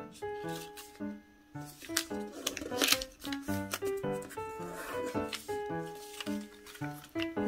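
Coloured origami paper rustles and crinkles in repeated short bursts as it is folded by hand, fairly close, under steady background music.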